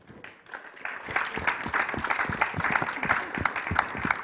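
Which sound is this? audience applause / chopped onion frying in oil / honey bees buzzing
audience applause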